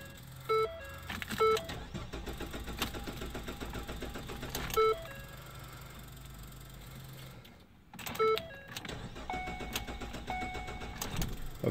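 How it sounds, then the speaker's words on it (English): A 2013-2016 Ford Escape with the 1.6L engine cranks on the starter after valve cover and gasket work, with several short cranking bursts over a continuous mechanical hum, heard close up and fairly faint. "We're going to see if it's going to crank, go check for leaks and stuff"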